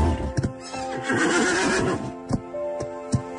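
A horse whinnies in a long, strong neigh at close range, then snorts and shifts with a few sharp hoof knocks, set at a riding stable where the horse is about to be saddled for jumping.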